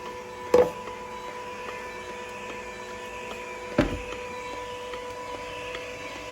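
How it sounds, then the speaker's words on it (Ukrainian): Tefal ZC420e38 auger juicer squeezing tomato juice, a quiet steady motor hum broken by two sharp knocks, running alone without talk. "От навіть зараз вичавлюю сік і може спокійно дивитись відео. Так тихенько він працює."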